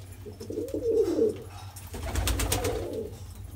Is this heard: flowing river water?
no